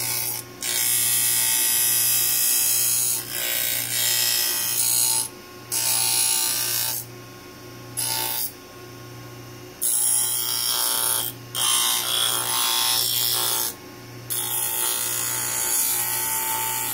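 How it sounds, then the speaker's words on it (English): A dental burr grinds and finishes an acrylic denture, giving a loud, steady high-pitched whine with a low motor hum, cutting off briefly in repeated pauses as the handpiece is lifted between passes, close and without speech. "You want to take this burr and blend in from the neck of the tooth to this cut that you've made here."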